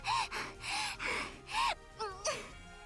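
Misaki, a character in the Aokana: Four Rhythms Across the Blue visual novel, pants in a string of quick, breathy gasps, about six uneven breaths close up with short gaps between them.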